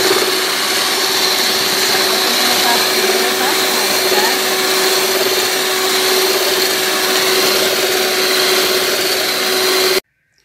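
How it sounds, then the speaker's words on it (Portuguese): An electric stand mixer beats four eggs with a pinch of salt for a flourless cake, a loud, steady motor whine with a constant hum, running unbroken for about ten seconds before cutting off. "Primeiramente eu vou bater na batedeira"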